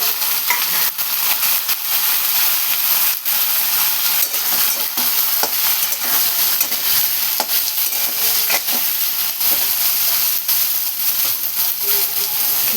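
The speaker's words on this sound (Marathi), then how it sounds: "तर त्यामध्ये बघा आपण शेंगा टाकून घेऊया." Drumsticks dropped into a sizzling onion-tomato masala and stirred, a loud continuous frying hiss with scattered scraping clicks from the spoon, close and steady throughout.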